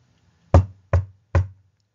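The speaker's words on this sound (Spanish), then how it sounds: "En tres saltos llegó a la puerta de la casa y tocó." Three firm, evenly spaced knocks on the front door of a house, close and clear with silence around them.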